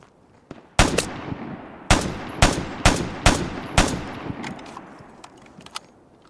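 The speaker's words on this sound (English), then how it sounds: "someone is sniping me from the other side" Sniper shots ring out in the online shooter Vigor, six sharp loud cracks spaced about half a second to a second apart, each trailing into echo, followed by fainter distant pops, with no voices.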